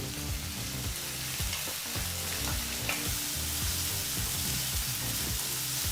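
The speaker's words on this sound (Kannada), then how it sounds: "ಈಗಿಲ್ಲಿ ಒಂದು 2 ನಿಮಿಷಗಳ ಕಾಲ ಈರುಳ್ಳಿನ ಫ್ರೈ ಮಾಡಾಯಿತು" Chopped onion frying in hot sunflower oil over a medium flame, a steady close sizzle and crackle that runs without pause, with faint stirring clinks and no voices.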